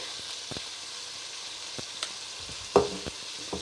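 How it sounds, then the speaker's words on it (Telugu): Chicken fries in a pan with ginger, garlic and coconut, giving a quiet, steady sizzle. Occasional soft clinks and knocks of stirring come through. "మూత తీసుకొని చూస్తుంటే బాగా ఫ్రై అయిపోయింది, ముక్క కూడా ఉడికినట్టే ఉంది."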